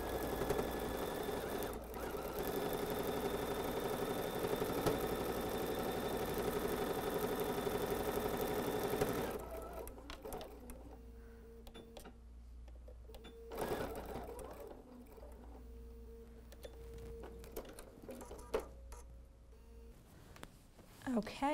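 A sewing machine stitches binding onto a quilt-as-you-go tote, humming steadily and loudly for about nine seconds, then stopping. Scattered handling clicks and rustles follow, with a short burst of stitching near the middle of that stretch.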